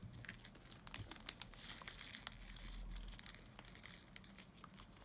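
A plastic bag of diamond painting drills is cut and handled, giving close, faint crinkling and crackling plastic with small sharp clicks scattered throughout.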